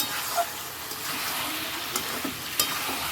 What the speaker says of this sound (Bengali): মশলা ডিমটা দিয়ে দিলাম ডিমটাও দিয়ে দিলাম ডিমটা দিয়ে কষিয়ে নিই